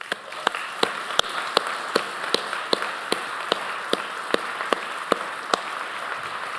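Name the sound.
applause at a memorial service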